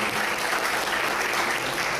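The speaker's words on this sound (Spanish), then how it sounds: "un aplauso para nuestra querida Margarita Sastre de Balmaceda" An audience at an economics lecture gives a full, even round of applause, a dense wash of many hands clapping throughout, moderately loud and steady.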